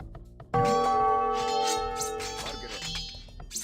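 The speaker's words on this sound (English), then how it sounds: "To protect your villagers, you can use the town bell to garrison them in your town center." A town bell rings in the video game Age of Empires II, one loud struck tone that sustains and slowly fades over a few seconds amid faint game ambience.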